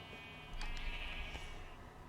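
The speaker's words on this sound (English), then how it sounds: "It's just a hallway of sheep." Sheep bleating in a hallway of penned sheep in Minecraft: a couple of thin, wavering bleats rise over a soft ambient bed, fairly close and with no voices.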